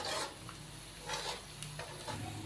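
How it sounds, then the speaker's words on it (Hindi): Ginger garlic paste fries in a pan with a soft, steady sizzle, while occasional stirring scrapes and light clinks come through at moderate volume, with no talk. "अदरक लहसुन के पेस्ट को शामिल करने के बाद हम इसको 1 से 2 मिनट के लिए भून लेंगे"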